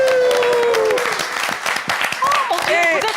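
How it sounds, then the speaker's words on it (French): Studio audience applauds on a RTL radio show set, a crackling burst of clapping while excited voices talk loudly over it. "écoutez les applaudissements"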